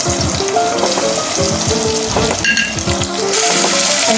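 Chopped tomatoes fry in a pan with spices for a red bean curry, producing a loud, dense, steady sizzle and crackle close up, with no one talking.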